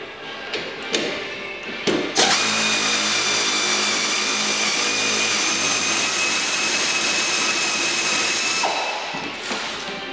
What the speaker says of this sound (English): Now we're going to take our handy dandy air ratchet, which I hate because it makes a ton of noise